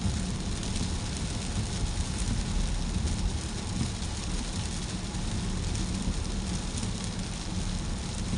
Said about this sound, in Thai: ตอนนี้ฝนตก